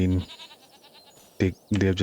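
Newborn goats bleat close by, with one cry at the start and two more near the end, separated by quieter farm background.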